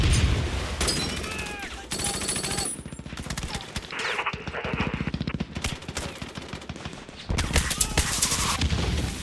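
Battle gunfire in the strategy game Hearts of Iron 3, with rapid rattling volleys that continue through the whole stretch, layered with booms and music-like tones at a moderate level.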